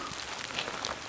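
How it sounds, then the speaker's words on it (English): Rain falls steadily on a muddy mountain trail, a soft, even hiss with scattered patter of drops, moderately close and without voices. "the rain's picking up now"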